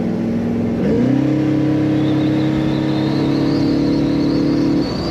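A 1955 Chevrolet Bel Air two-door post V8 with a torque converter revs up sharply under throttle, then holds a loud, steady, rising engine note close by before easing off at the end.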